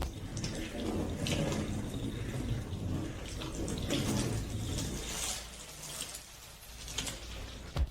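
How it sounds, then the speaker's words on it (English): Running water from a hose rinses over a car's surface during a wash, a steady broadband splashing and hiss that continues throughout and eases slightly near the end. "So now rinse it off briefly with water."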